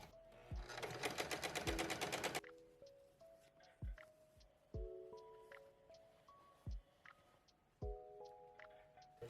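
Sewing machine top-stitching the hem of a reused bedsheet, a fast, dense burst of needle clatter for about two seconds, followed by quieter scattered clicks and light handling sounds.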